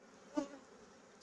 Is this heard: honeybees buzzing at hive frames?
yes